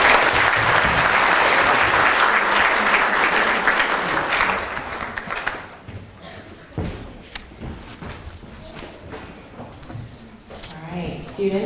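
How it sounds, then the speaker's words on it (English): A loud round of audience applause for student essay winners at a school DARE ceremony, fading after about five seconds into scattered claps, thumps and murmuring voices. "can we just give them one more round of applause?"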